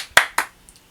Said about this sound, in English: I'm gonna give myself a round of applause for that